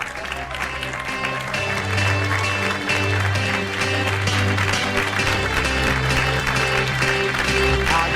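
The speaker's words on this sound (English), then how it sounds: "How about a big round of applause, everybody" Wedding guests clap in a sustained round of applause, a dense crowd of hands rising and holding steady throughout, with a low background hum beneath.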